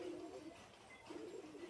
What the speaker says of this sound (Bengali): আর এটা হচ্ছে একটা পায়রা, এটা হচ্ছে আলিওয়ালা 35